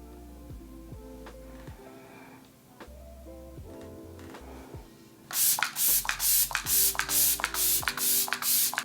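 A rapid series of short, loud makeup setting spray bursts, about a dozen pumps in quick rhythm, close by, over soft background music.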